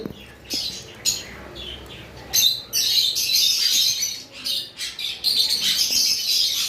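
Caged pet birds, including budgerigars, chirp and squawk at a bird sale in bursts of close, bright, overlapping calls, loud and uneven, with no talk.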